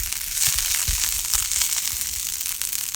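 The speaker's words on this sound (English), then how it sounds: "I'm stirring in my ketchup, and stir everything and stir" Ketchup stirred into a sautéing pan mixture for a corned beef dinner, a steady broadband sizzle with scraping and crackle from the spoon, close and fairly loud throughout.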